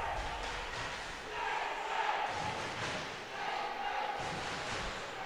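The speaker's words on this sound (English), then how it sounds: "Home crowd offer their encouragement." A home crowd at a Hull Stingrays versus Fife Flyers ice hockey match roars encouragement, a broad swelling cheer that rises and falls twice over a few seconds, heard at a distance through the arena.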